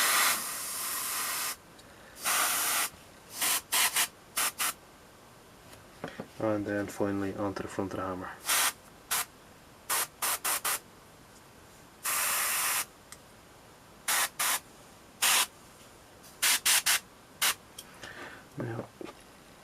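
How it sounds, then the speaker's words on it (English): Airbrush spraying purple paint onto a miniature Blood Angels Death Company Jump Intercessor, compressor at 20 psi: repeated short loud hissing bursts of spray, with a voice talking between them. "Compressor is set to 20 psi, and we're just going to blast on a quick little layer of purple."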